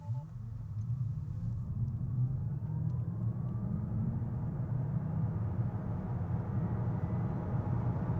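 A Tesla Model Y accelerating hard from a standstill in a 0-100 km/h test with the climate control off, a steady low rumble and rising drive whine continuing throughout, with no talk.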